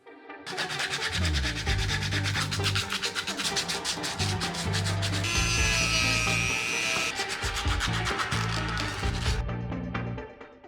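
Close, steady rasping of hand sanding on a large carved wooden skull, with rapid back-and-forth strokes that continue for about ten seconds with no one talking.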